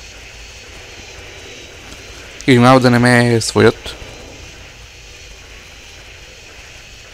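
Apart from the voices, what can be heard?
fighter jet engine noise in GTA San Andreas video game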